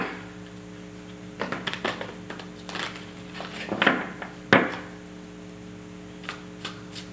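Tarot cards are shuffled and riffled in short bursts of soft flicking and tapping, with a sharper knock midway and quiet pauses between.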